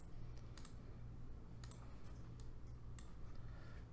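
Computer keyboard being typed on in short bursts of crisp clicks, close and moderately loud over a steady low hum, with gaps between the flurries of keystrokes.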